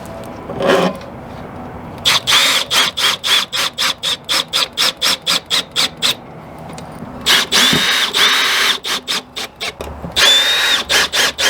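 A power drill drives short screws to fix a door onto a camper, with rapid on-off bursts of whirring, clicking and squealing, in a quick pulsing rhythm across several screws.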